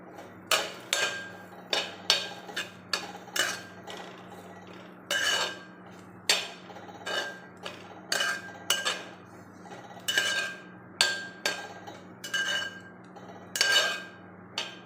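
A spoon or spatula clinks and scrapes rhythmically against a pan while potato stir-fry with chicken masala is stirred, sharp metallic knocks repeating steadily over a faint low hum.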